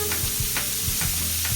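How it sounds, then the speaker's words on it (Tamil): Beetroot and onion stirred in a frying pan for a beetroot curry, with a steady close sizzle and scraping spoon strokes about every half second. "பீட்ரூட்டையும் வெங்காயத்தையும் கிளறுகின்றேன்."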